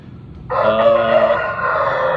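An adult rooster called Gimbol lets out a single loud, sustained crow at close range after a short quiet lead-in, the call held steady to the end.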